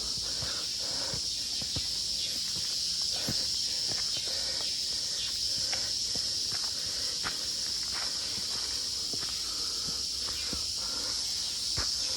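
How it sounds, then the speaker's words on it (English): Crickets chirp steadily in the background at night with a constant high insect drone, while scattered soft footsteps and rustles crunch nearby throughout. "The sound of the cricket."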